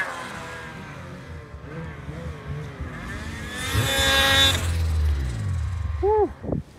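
A snowmobile running on race fuel revs hard while climbing a hill, the engine note rising and swelling loud midway, then dropping and surging again near the end, with faint voices underneath.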